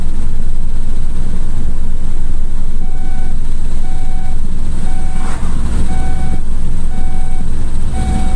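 A Ford C-Max 1.6 HDi that had been left abandoned is driven steadily, its loud continuous engine and road rumble filling the clip, with a row of regular high beeps sounding over it.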